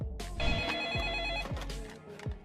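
A telephone rings in a repeating electronic trill while calling the electricity company about a power cut, the tone steady and close with a low rhythmic thump pulsing underneath.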